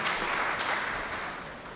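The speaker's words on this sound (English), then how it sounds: "let's give her a round of applause for being brave enough to read a letter" Audience applause at a STEM education day at a state capitol, a brief spread of clapping that starts fairly full and gradually thins and fades over under two seconds, with no speech.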